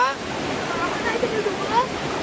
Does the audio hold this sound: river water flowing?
yes